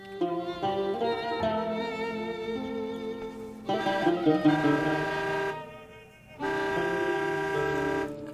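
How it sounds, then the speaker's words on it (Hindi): Long sustained horn blasts, loud and near, with a short break before another steady honk; no talking. "ये कौन हॉर्न बजा रहा है?"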